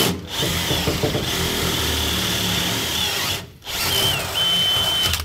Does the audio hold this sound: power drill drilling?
yes